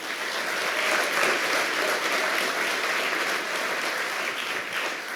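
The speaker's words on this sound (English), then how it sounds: "Can we give them a round of applause?" Full, sustained applause from an awards-show audience honouring award-winning teachers, a thick even roar of clapping that stays loud throughout.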